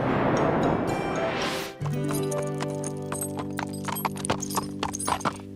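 Cartoon horse hooves clip-clop in a steady rhythm right after a burst of busy noise, with music playing underneath.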